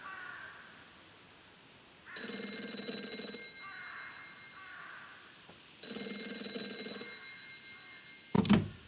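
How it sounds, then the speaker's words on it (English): A telephone rings in two loud, bell-like bursts of about a second each, separated by a short pause, in the 2010 PC point-and-click game Gray Matter, followed by a brief clatter at the end. No one speaks. "That phone is about to ring."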